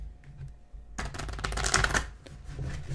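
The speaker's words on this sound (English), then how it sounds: "I will start just shuffling the mind deck, just like I would a tarot deck, just like I would an oracle deck" A deck of cards being shuffled, a sudden dense riffle of crisp fluttering clicks that starts after a quiet moment and keeps going, close and moderately loud.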